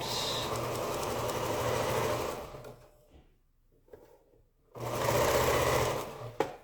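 A sewing machine stitches quilt fabric in a fast steady whirr, stops for about two seconds of near silence, then starts running again close by.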